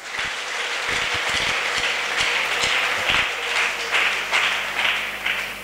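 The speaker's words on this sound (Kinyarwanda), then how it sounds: "Reka tuyikomere amashyi kuko ikiranuka muri byose." A church congregation applauds together, a steady, dense wash of clapping that holds evenly throughout with no talk over it.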